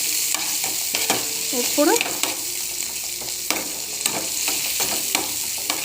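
Cumin seeds frying in hot oil give a steady crackling sizzle, with sharp clicks of a spoon stirring against the pan scattered through it; a voice briefly speaks.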